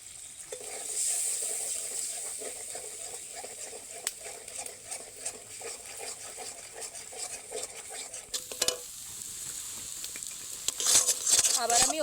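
Egg frying in oil in a pan for chicken fried rice, a steady close sizzle with occasional scraping and stirring of a spatula, louder clatter toward the end.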